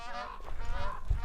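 Birds honk at the White Palace in Mongolia, giving several loud, nasal goose-like calls in quick succession that sound fairly close and carry over light background noise.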